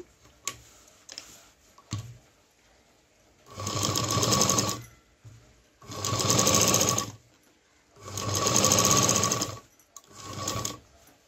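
A sewing machine stitches a zipper onto a homemade tiffin bag in three loud, even bursts of rapid needle chatter lasting about two seconds each, separated by short pauses filled with soft clicks and handling.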